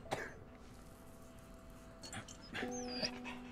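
Medic dog in the WWI game Valiant Hearts: short breathy panting and snuffling bursts near the start and end, faint and close, over a quiet background with a few tonal game sounds.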